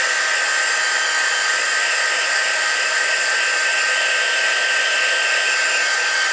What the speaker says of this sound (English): this is just to speed up the process, because it does take a long time to dry